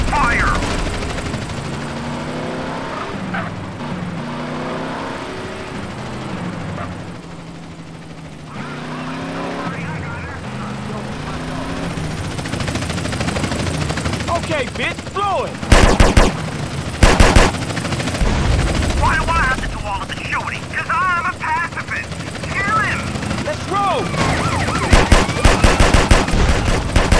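Rapid bursts of video-game gunfire from a drive-by in GTA San Andreas with a Volkswagen Jetta mod, loud and repeated over a constant engine and helicopter-like drone, with voices talking throughout.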